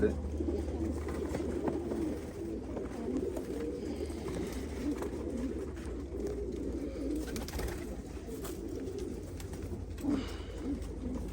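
A pair of Polish black-winged pigeons cooing softly and steadily close by, with the low rolling calls overlapping against a quiet background.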